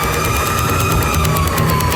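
Fire truck siren on an emergency call, a loud, close, continuous wailing tone with a slowly falling pitch over rumbling traffic noise.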